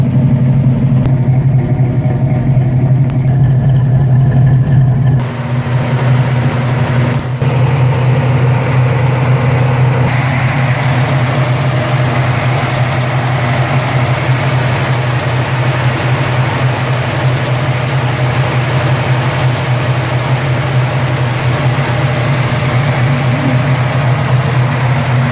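A 1970 Chevrolet El Camino SS engine runs warm after fifteen minutes, a loud steady low idle rumble that continues throughout, with a slight change in tone early on.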